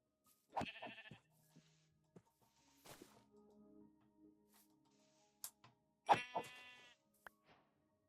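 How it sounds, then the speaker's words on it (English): Sheep in Minecraft bleat in short bursts, one early and a louder one later, with soft game thumps and footsteps in between and no talk. "Oh, it's a sheep."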